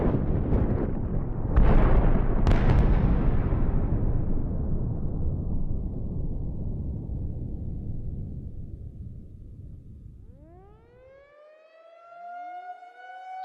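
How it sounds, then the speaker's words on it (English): Several loud booming blasts rumble and fade into a long low roar, then a wailing siren rises and falls. "Several explosions have been reported in the northern sector of the facility."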